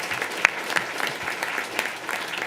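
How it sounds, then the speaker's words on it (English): Audience applause at a school board meeting honoring schools for math and literacy awards, steady and moderately distant, with a few sharper individual claps standing out from the even patter. "Let's give those 16 schools another round of applause"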